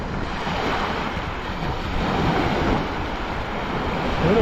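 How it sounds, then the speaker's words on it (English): Small sea waves washing ashore at Iskele beach in Northern Cyprus, a steady broadband surf wash with wind noise on the microphone, continuous and fairly close, with no talking. "But there's something nice about small waves too. They're beautiful."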